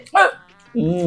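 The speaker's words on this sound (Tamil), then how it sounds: "அவளுக்கு விக்கல் வந்து." One sharp hiccup sounds close by, and a voice begins speaking right after it.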